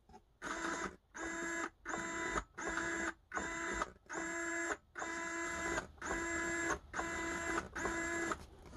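A hobby servo motor modified for continuous rotation runs in repeated short bursts, each a buzzing, whining hum lasting about half a second, separated by brief pauses in a steady rhythm, close and fairly loud.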